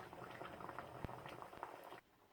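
A pot of water boiling steadily, with constant bubbling and a few louder pops and clicks, fairly close; the bubbling drops away abruptly near the end.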